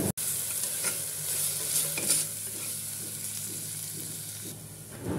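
A spoon stirs chili powder and salt into a sizzling crane bird curry mixture in a pan, steady scraping and frying hiss close up, with a sharp click at the start and no talk.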